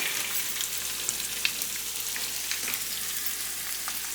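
Béchamel of flour and hot milk cooking in a pan, a steady soft sizzle and bubble with faint scattered pops and clinks, continuous and close, no voices.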